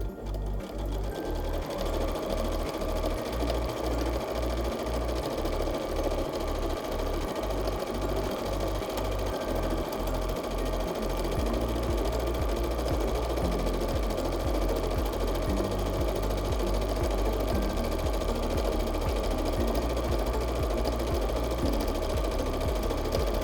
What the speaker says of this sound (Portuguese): Feito isso, costura reta, vamos para a máquina.